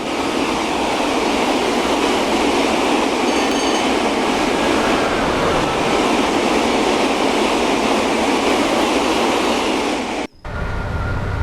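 A loud, sustained roar of a Class 87 electric locomotive and train rushing past close by on the West Coast Main Line at Shap, steady for several seconds before cutting off abruptly.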